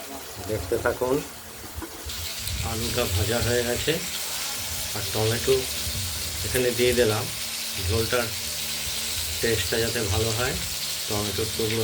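A paneer and potato curry sizzles in a pan with a constant frying hiss, while a voice talks intermittently over the cooking noise.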